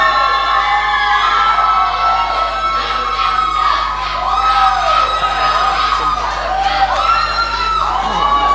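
A conference audience cheers loudly, with whoops, shouts and high-pitched screams rising and falling in waves over a constant crowd roar.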